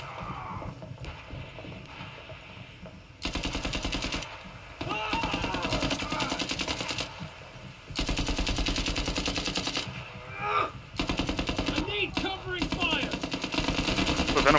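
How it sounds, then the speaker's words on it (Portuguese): Sustained automatic gunfire rattles in long bursts in the VR shooter Zero Caliber VR, loud and dense with brief pauses, while someone speaks in between. "Meu Deus, tô tomando muito tiro."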